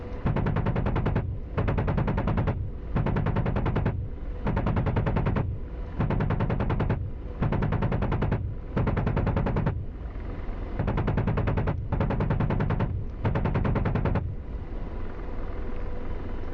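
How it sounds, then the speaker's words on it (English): An Apache helicopter's gun fires in the DCS World combat game, about ten loud sustained bursts, each roughly a second long, separated by short gaps over a constant rotor drone. "we'll hit this little treed area right here with some more gun rounds"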